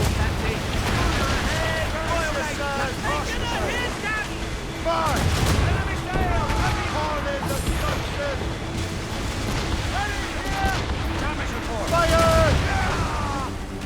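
Naval cannons fire from sailing ships in the game Assassin's Creed Rogue, heavy booming volleys rolling over ocean ambience with gulls crying, shouted commands breaking through between the blasts.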